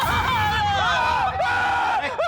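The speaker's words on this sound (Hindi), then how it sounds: "क्यों चीखे आप?" A man screams loudly in a sustained, wavering cry with sharp pitch swoops, close and alone, with no background talk.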